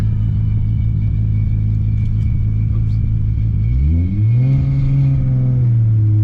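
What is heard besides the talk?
tuned sports car engine accelerating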